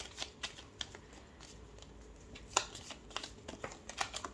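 Tarot cards being shuffled for a 13-card Etteilla reading, a close dry riffling and sliding in uneven bursts, with several sharper snaps, and no talking.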